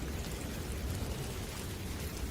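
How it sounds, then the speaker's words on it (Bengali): Light drizzling rain in an animated Bengali ghost story, a soft, steady hiss of drops that runs unbroken from start to end with no voices over it. "চারিপাশে টিপ টিপ বৃষ্টি হচ্ছে"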